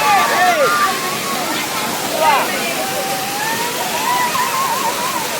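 Steady rushing water roars throughout from a strong waterfall, Suruli Falls in Theni district, with faint voices barely audible beneath the constant wash.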